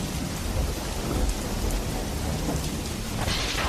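Heavy rain pours down with rolling thunder, a dense, loud, steady wash of rain with deep rumbles and a sharper crack near the end, no voices.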